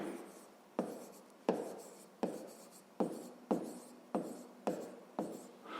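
A hand writes an equation for a fifth-grade maths exercise, producing a series of about nine quick, close scratching strokes at an even pace, each starting with a sharp tap that trails off.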